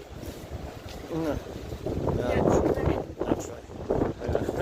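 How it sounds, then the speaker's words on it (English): Gusty wind buffets the microphone on a street in Blackpool, a steady low rumble swelling and dropping in bursts while a person talks over it. "It's still windy, of course."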